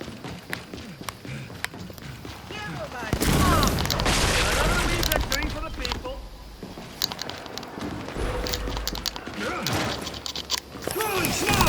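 Gunfire from a Gears of War 5 match, with loud sustained bursts and booms over a rumbling mix of battle noise and footsteps, alongside a player talking.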